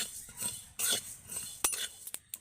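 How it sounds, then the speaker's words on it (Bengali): Dry-roasting spices in an empty kadai for lime pickle: a metal spoon scrapes and clinks against the pan in quick, uneven strokes, with a few sharp taps near the end, close and fairly quiet. "এই মশলাগুলোকে এখন আমি শুকনো কড়াই ভেজে নেব"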